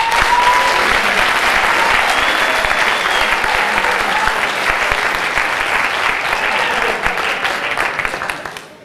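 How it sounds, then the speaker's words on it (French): A large crowd at a concert in Chaumont claps loudly and continuously for several seconds, the sustained applause tapering off at the very end. "sous un maximum d'applaudissements s'il vous plaît"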